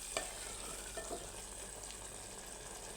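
Meat being stirred in a clay pot for biryani, with a soft steady sizzle throughout and a few brief scraping knocks near the start and around one second.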